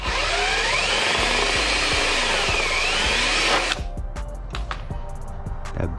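A drill bit bores holes through a car bumper while a carbon fiber splitter is fitted to a widebody Dodge Charger Scat Pack. Close, loud, continuous drilling lasts under four seconds, then ends in scattered clicks and handling noises.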